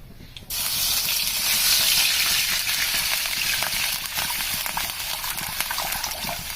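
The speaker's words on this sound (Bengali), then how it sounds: "কড়াইতে তেল দিয়ে দিয়েছি এবার আমি একটু জল দিয়ে দিই" A sudden loud sizzle bursts up as water hits a small amount of hot oil in a wok, ready for frying semolina, and the hiss stays strong and steady with crackling throughout.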